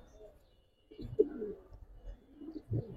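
Giribaz highflyer pigeons give soft, low coos close by, a few short murmuring calls in otherwise quiet surroundings.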